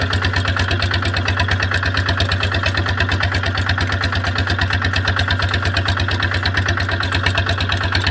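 The engine of a tractor pulling a seed planter runs loud and close in a steady, rapid chugging idle-like rhythm throughout, with no voices over it.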